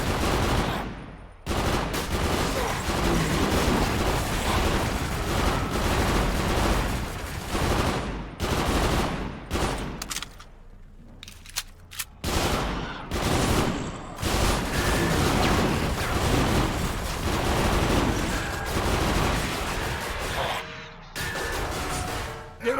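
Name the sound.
submachine gun firing in a video game (Ghostship Chronicles)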